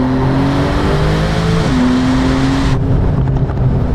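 Techart GTstreet R tuned Porsche accelerating hard as the turbo spools up, a loud close engine roar with a sharp shift in tone partway through before it continues at full pull, no voices.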